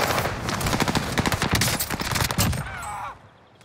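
Rapid automatic gunfire in Call of Duty: Vanguard Warzone, a dense burst of loud, close shots that rattles for over two seconds and then breaks off, leaving a faint ringing tail.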